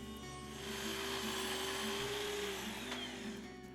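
Power saw cutting wooden tray panels to size, a sustained close buzzing whine with a steady motor drone that rises as the blade bites and eases off at the end.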